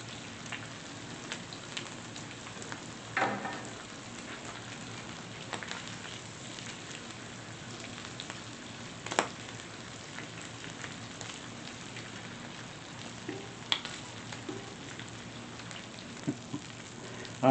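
Bacon and pepperoni frying on a Blackstone griddle, a continuous soft crackling sizzle with scattered pops, fairly quiet and steady, with no voices.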